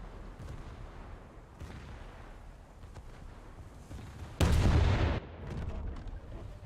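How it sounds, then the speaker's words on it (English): Coastal artillery firing in War Thunder: muffled distant booms at intervals over a steady engine drone, then one loud, close burst of blast noise lasting nearly a second before fading back to the low rumble. "Got coastal artillery opening up on me"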